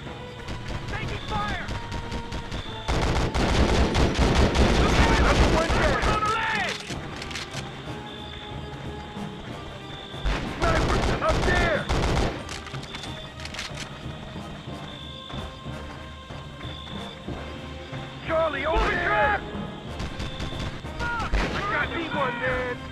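Gunfire in the Vietnam War shooter Conflict: Vietnam on PS2, with repeated loud bursts of shots and blasts over a dense battle din, and voices shouting throughout.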